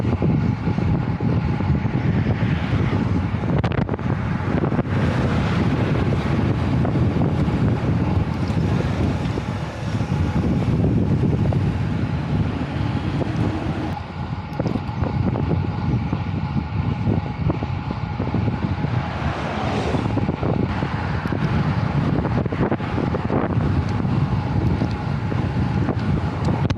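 Steady, heavy wind off the sea at Barcola, Trieste, buffets the microphone throughout, a continuous roaring rumble with brief dips, and no voices.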